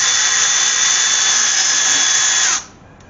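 A power tool zipping nuts off the water pump of a BMW Z3 E36, a loud steady high-pitched whine close up that runs unbroken for about two and a half seconds, then cuts off abruptly.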